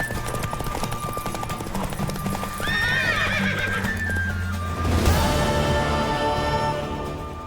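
Rhythmic clip-clop of hooves with a horse neighing midway, then music swells over continued hoofbeats; video game sound effects from The Witcher 3.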